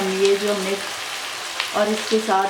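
Chicken frying in a karahi gives a steady, fairly loud sizzle, with a tonal voice running over it in short stretches.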